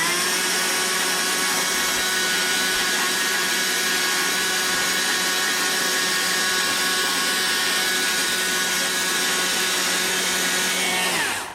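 A chainsaw shaves a stringy wood log while carving a birdhouse, its engine holding a loud, steady high whine for about eleven seconds before cutting off at the end.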